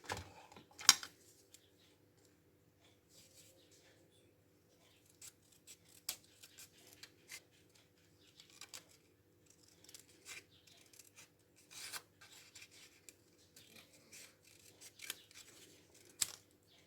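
Scissors cutting through material in a few sparse, separate snips spread over the stretch, quiet and close, with near silence between cuts and no talk.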